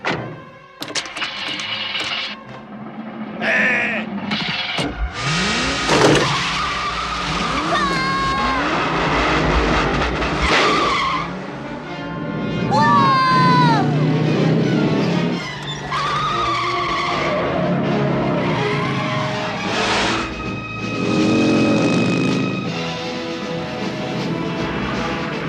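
A car skids and squeals through repeated swerves amid engine noise, with frantic voices and musical sound over the top, loud and busy throughout.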